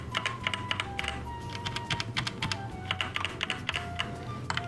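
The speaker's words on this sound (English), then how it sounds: "you really won't be typing without the keycaps, but that's what it's like to type without" Typing on a budget gaming keyboard with the keycaps removed, a fast, continuous patter of sharp clicky key presses, close and fairly loud, with no talk.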